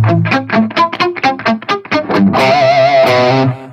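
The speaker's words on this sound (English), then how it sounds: "Okay, and now I've got some distortion. I'm using some palm muting" Distorted electric guitar plays palm-muted arpeggiated chords, a choppy run of tight separate plucks that opens into a long, sustained ringing chord, loud and alone.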